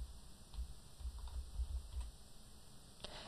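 Fingers type the word 'Internet' on a computer keyboard, a soft run of faint clicking keystrokes spread across a few seconds, quiet and close, ending with a slightly sharper key press.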